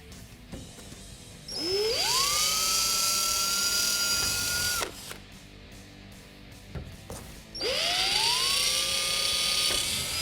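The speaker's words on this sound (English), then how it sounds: "Drill 4 small pilot holes." Two short bursts of a power drill spinning up to a high whine, drilling small pilot holes for a hood pin kit on a 1965-1973 Ford Mustang, each lasting a few seconds, separated by a pause.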